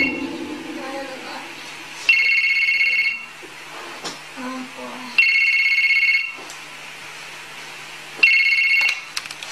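A telephone rings in a room in three loud electronic bursts about three seconds apart, each lasting just over a second. Hushed voices and movement fill the pauses between rings.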